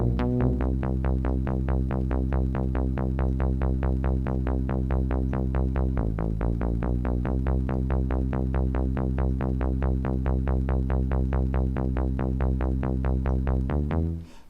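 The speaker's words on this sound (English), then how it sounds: "So at the moment I've done that is the bass for the whole of the intro that we need" A buzzy synthesized bass line for an intro, built in Music 3000, plays alone in steady repeated notes with a pitch shift near the middle, then cuts off at the end.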